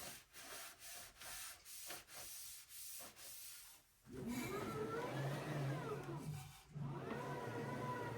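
A laser engraver gantry on an xTool P3 slides back and forth by hand during greasing, giving repeated rubbing passes at first, then a steadier, louder grinding slide close to the microphone.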